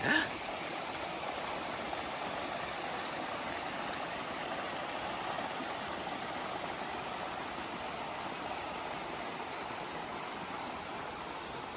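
A stream water source on the Appalachian Trail flows in a steady, soft, continuous rush of water heard alone on a misty, rainy day.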